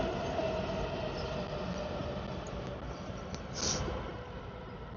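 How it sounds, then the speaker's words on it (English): A Washington, DC metro train passes beside a station with a steady, loud rumbling roar that holds for several seconds and swells briefly near the end, with no voices over it. "we'll wait for this train to pass"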